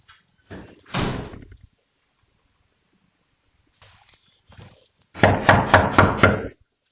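Police bang on a front door in loud bursts of heavy thuds, a short volley, a pause with faint knocks, then a final rapid series of hard, ringing blows.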